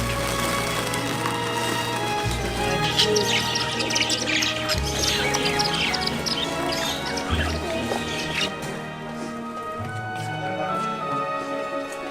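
Birds chirp and tweet in a busy indoor pet market in Doha, high twittering calls scattered over a steady low hum and background chatter.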